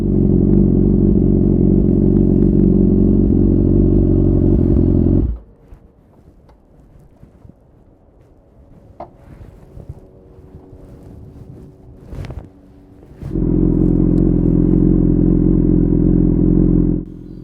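A BMW S1000R motorcycle being ridden, its engine droning loudly for about five seconds, dropping to a near idle with wind noise and light clatter, then roaring back up near the end.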